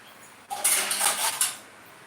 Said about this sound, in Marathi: आता झाकण लावून हे ठेवते मी साईडला